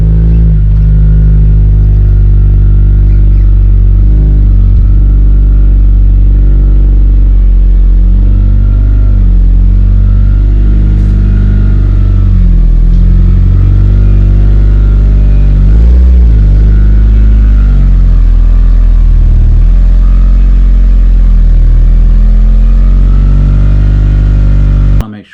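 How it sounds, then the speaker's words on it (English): A Mitsubishi Evo 8 is slowly driven in, its engine a loud, close, steady low idle with small rises in revs and no talking. "So yeah, let's pull the car in."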